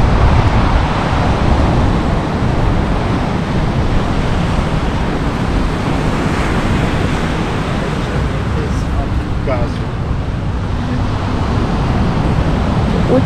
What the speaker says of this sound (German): Der Ozean ist heute auch noch immer ziemlich laut.